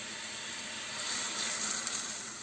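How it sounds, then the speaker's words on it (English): Agar-agar powder and water slurry poured into a pan for milk and mango jelly pudding, a steady close hissing splash of liquid running for a couple of seconds, with no talking. "to this we are going to pour the agar-agar powder and the water"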